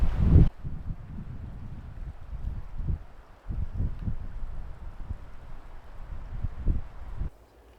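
Wind gusts off a lake at a campsite, buffeting the microphone in uneven low rumbles that rise and fall, then drop away near the end.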